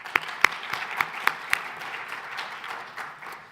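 Scattered applause from a panel discussion audience, a handful of sharp distinct claps at first and then thinning into softer, quieter clapping.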